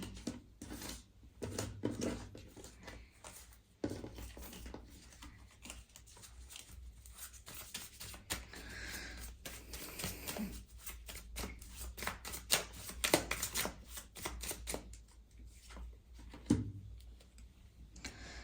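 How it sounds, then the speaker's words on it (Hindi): Tarot cards being shuffled by hand, a long run of soft riffling and papery flutters with quick slaps and taps, close and fairly quiet, with no talk over it. "एक बार और शफल करती हूँ।"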